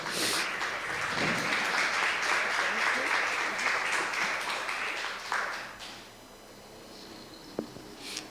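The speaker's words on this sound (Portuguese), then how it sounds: "Vamos aplaudir o Senhor mais uma vez." A church congregation applauds in a dense, sustained wash of clapping that lasts around five seconds, then thins out into a quieter room with scattered sounds.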